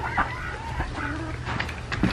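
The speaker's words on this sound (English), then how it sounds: "We got ducks, two ducks, and everything else are chicken." Chickens and two ducks in a backyard coop on a farm, with soft clucking and a few bird calls sounding close over steady background noise.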